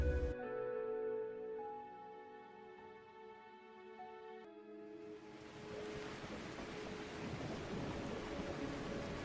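A stormy-night rain and thunder sound effect opens after a sustained musical tone, then a dense, loud rush of rain with deep rumbling builds and holds to the end, with no voices.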